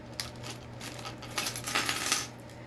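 Metal bag hardware, half rings and snap hooks, clinks and jingles as a package is opened, close and fairly soft, in small bursts with rustling, no talking.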